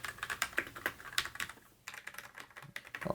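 Rapid typing on a Das Keyboard 4C mechanical keyboard, a close, crisp run of clacking keystrokes with a brief pause midway before the tapping resumes, no voice.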